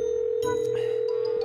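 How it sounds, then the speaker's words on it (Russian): A phone ringing in the Minecraft video game, a steady electronic ring tone sounding continuously and close, with brief soft clicks and noises over it before it cuts off. "Звоним Костя."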